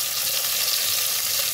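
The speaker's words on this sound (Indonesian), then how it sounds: "Selepas bawang layu, kita sekarang campurkan dengan tomato 2 biji" Tomatoes tip into a pan of wilted onions that are already sizzling for a Mamak-style fish curry made without coconut milk. A steady, close frying hiss runs unbroken throughout.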